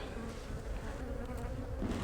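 A few honey bees buzz inside a sparse, weak hive during an inspection, a soft steady insect drone with low rumble underneath, fairly close and continuous, with no talking.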